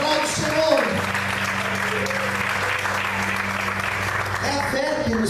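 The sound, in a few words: congregation applauding in church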